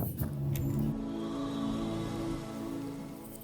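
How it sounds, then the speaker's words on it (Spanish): Street noise while walking outdoors: a passing car's steady engine rumble and hiss of traffic fill the scene, moderately loud and continuous, with no talking. "Disculpen todo el ruido que puedan escuchar. Vamos en la calle, vamos caminando."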